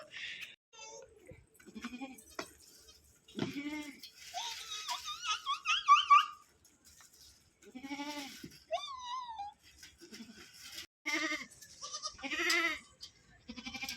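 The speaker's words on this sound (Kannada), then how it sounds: "ನಮ್ಮ ಮೇಕೆಗಳನ್ನ ತೋರಿಸ್ತೀನಿ ಒಟ್ಟು ನಾಲ್ಕು ಮೇಕೆ ಮರಿಗಳಿದ್ದಾವೆ" Goats and a few-days-old goat kid bleat in short, wavering cries, mostly faint and scattered between a person's talking around a village farm.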